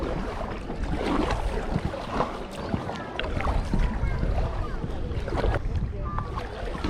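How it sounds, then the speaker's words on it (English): A kayak paddle dipping and pulling through water, with repeated splashy strokes and trickling drips over a breezy wind rush, close and moderately quiet. "Now we'll just use our paddle."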